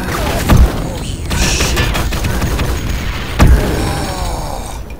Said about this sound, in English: I just took a rocket in the face then